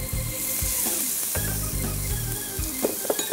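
Diced chicken cubes land in a pan of browned garlic and onion and set off a loud, steady sizzle, with a few stirring clinks near the end.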